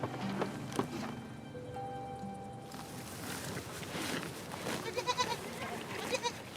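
Goats bleat a few times amid a busy outdoor scene at the Al-Ayn oasis, with scattered pattering and rustling throughout, the calls moderately close.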